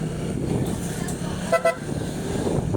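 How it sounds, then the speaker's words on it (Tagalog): A motorcycle horn gives two quick short beeps over the steady hum of engine and road noise. "Parang lumalakas ang busina ko."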